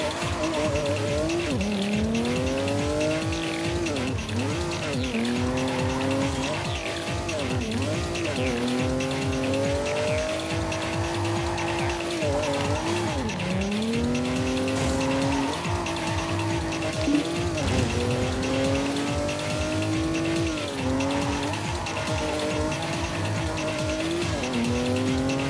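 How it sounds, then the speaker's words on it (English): Race car engine in the Ridge Racer Unbounded video game, revving and shifting pitch continuously while drifting around big corners, with tires squealing through the slides; loud and steady, no voices. "So you just want to get your speed up so you can drift well around the big corners."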